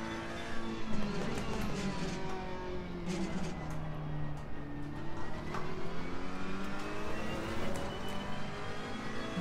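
Ferrari 488 race car in Assetto Corsa Competizione, its engine dropping through the gears into a corner, pitch stepping down and swelling again in a steady loud drone.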